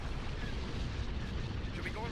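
A continuous rumble of weapons fire and explosions in a Star Wars space battle video game, heavy and sustained with little break, low in level.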